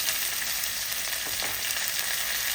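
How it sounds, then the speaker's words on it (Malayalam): Steady dense sizzling of mustard seeds spluttering in hot oil with faint crackles, close and continuous, no voices. "കടുക് പൊട്ടി വരുമ്പോഴത്തേക്ക് കുറച്ച് കറിവേപ്പില"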